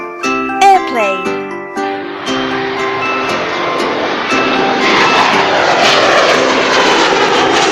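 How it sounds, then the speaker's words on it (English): A propeller airplane engine roars up loudly after a brief musical intro, building into a steady, rushing drone that fills the rest of the clip. "airplane,"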